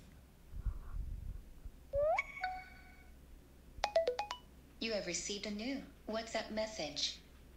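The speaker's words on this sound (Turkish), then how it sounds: "Bir de bildirim seslerine şöyle bir göz atalım." Phone notification tones are previewed in an app one after another, a rising chirp, a quick burst of bright clicks, then warbling melodic jingles, close and clear over a quiet background with no talk.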